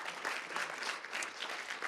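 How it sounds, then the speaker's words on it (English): An audience claps for two guest speakers at a talk, a faint, even wash of many hands clapping that holds steady for a couple of seconds. "let's have one more round of applause for David and Jason for joining us today"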